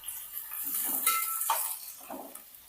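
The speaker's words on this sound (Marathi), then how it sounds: "आता तेल गरम झालेले आहे. आपल्याला काय करायचं आहे तर आता यामध्ये घालायचा आहे कांदा." Onions tip into hot oil in a pan and are stirred, with soft sizzling and several light clinks and scrapes of a spoon against the pan, heard fairly faintly and close.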